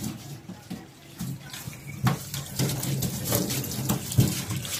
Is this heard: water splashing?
yes